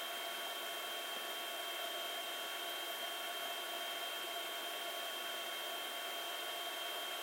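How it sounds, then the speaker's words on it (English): A bathing robot's lower body cleaner running, a steady faint whooshing hum like a small blower, unchanging throughout with no voices. "after the user is standing up, the lower body cleaner is activated"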